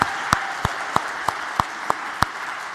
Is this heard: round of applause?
yes